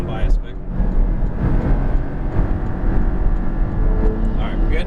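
A Porsche Cayman GTS drives a race track, its engine a steady mid-range drone with rising throttle under constant loud road and wind noise, while an instructor talks.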